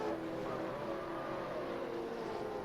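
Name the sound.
SRA Supercars race cars screaming past, Camaro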